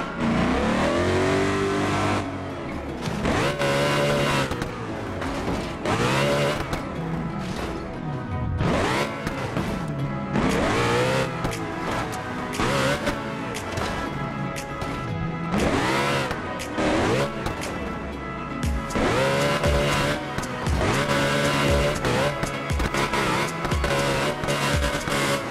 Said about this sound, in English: Ford Mustang.